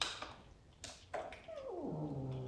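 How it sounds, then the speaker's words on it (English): A pure black kitten meows once in a long, falling cry, close and clear, after a few soft thumps, inside a stone house in Portugal. "I'm wondering if these kittens have anything to do with Bezos, because this little one is pure black"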